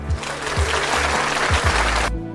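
Steady applause from a group of people at the Dufan amusement park, continuous clapping throughout with a low rhythmic thumping underneath, cutting off abruptly near the end.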